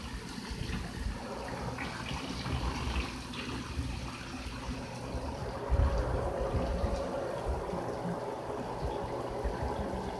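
A shower runs over Pretty Bird, a pet goose, as a soft, steady hiss of falling water with faint splashing that stays fairly quiet and even throughout.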